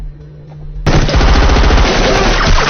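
Loud, dense burst of automatic gunfire in an Indian action film, a rapid machine-gun rattle erupting suddenly after a quiet low hum and sustaining at close range to the end.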